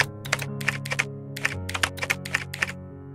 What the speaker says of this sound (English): he keeps typing O's and 1s